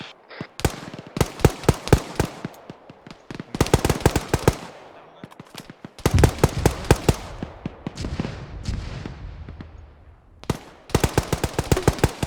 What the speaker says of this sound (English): These guys have shitty mortar.